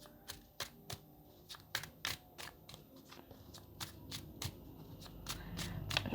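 Tarot cards are shuffled close up in a quiet room, a series of crisp riffling snaps and soft slaps repeating irregularly over several seconds, with a low background hum rising toward the end.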